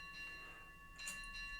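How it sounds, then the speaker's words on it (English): A clock chimes ship's bells in a short, quiet pair of bright metallic tones, the second strike slightly louder. "Ship's bells"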